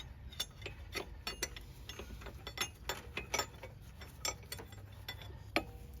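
A wrench ratcheting on the belt tensioner of a Mercedes W126 with the M1 engine, steady quiet metallic clicks and ticks in an irregular stream, close by with a low rumble beneath.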